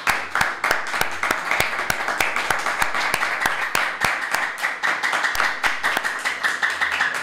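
A small group of young men keep clapping on a live stream, a continuous run of quick, close, crisp hand claps with uneven rhythm lasting several seconds and no talk over them.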